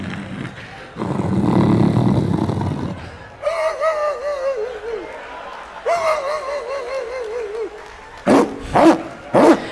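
A man imitates a barking dog on a talk show, giving a few rough, growly bark-like yelps that come in short bursts separated by pauses.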